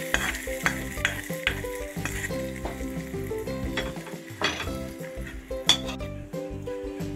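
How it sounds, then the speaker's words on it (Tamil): Hot oil tempering with asafoetida sizzles and crackles as it is poured and stirred into peanut chutney, with a spoon clinking against the pan and steady frying hiss throughout. "இப்போ எல்லா பொருளையும் தாளிச்சாச்சு. இப்போ சட்னியில் ஆட் பண்ணிக்கலாம்."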